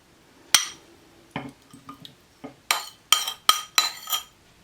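Homemade mint sauce being spooned into a serving bowl, with a handful of distinct spoon-on-bowl clinks and scrapes spaced through the moment, close and fairly crisp, with no talk.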